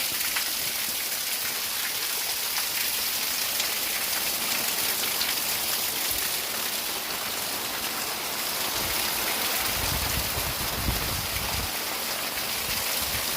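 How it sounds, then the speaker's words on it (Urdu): Heavy monsoon-style rain pours steadily near a dam reservoir, a dense, even hiss of drops hitting surfaces for the whole stretch, loud and unbroken, with a brief deeper rumble partway through and no talk. "اللہ پاک نے فضل و کرم نال شدید ترین بارش"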